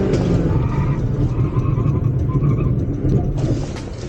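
A Proton car brakes hard from 100 km/h to a stop, heard as a loud, close, rumbling road and engine roar that holds steady, then tapers off near the end.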